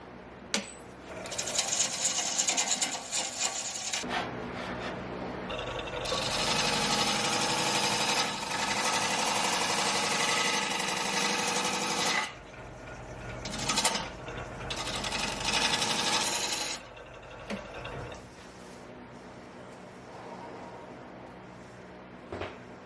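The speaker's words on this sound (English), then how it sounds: "I'm going to switch back and forth and probably use my scraper a little more than I normally would" A scraper cuts an Osage orange bowl spinning on a wood lathe, giving a loud, continuous whirring scrape that comes in long passes with brief breaks between them.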